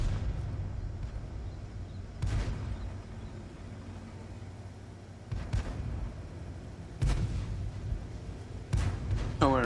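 Tank guns firing in World of Tanks during a skirmish battle: four loud, sharp booming shots spaced a few seconds apart over a steady low engine rumble, with faint voices in the background.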